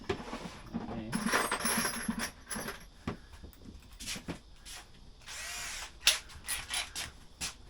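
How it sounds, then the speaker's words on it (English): A small drill bores into cracked scooter plastic at the end of the crack, giving several short whirring bursts with bits of clatter and pauses between them and no talk. "we'll just drill the end of the crack"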